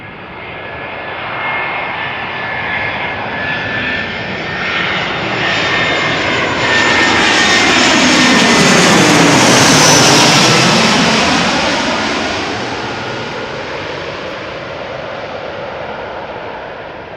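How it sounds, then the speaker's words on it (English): An EasyJet Airbus A320 on arrival at Amsterdam Schiphol Airport, inbound from Manchester, passes close overhead with a swelling jet roar and a sweeping pitch shift, peaking midway and then fading as it moves off. "A320. Coming in from Manchester."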